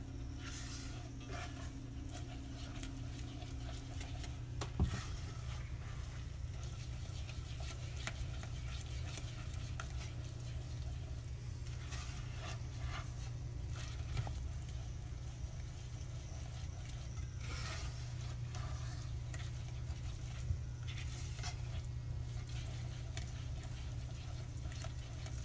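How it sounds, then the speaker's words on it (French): Soft, steady scraping of a spatula stirring thick play dough in a saucepan, quiet and continuous with occasional light clicks against the pan. "Puis, on brasse tout le temps avec une spatule."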